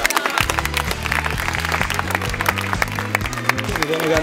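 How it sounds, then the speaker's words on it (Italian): Applause from a crowd at an outdoor Rome mayoral campaign event, a dense steady patter of clapping mixed with strong rhythmic background music. "Un applauso alle donne di Don Olimpia."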